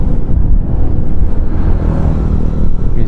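A Kawasaki KLX 150 motorcycle under restoration, its engine running after an electric start, giving a loud, close, steady low rumble with no talk.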